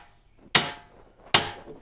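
Two sharp, loud hammer blows land about a second apart on wood while a resurfaced half barrel is being assembled, each strike ringing briefly and then dying away.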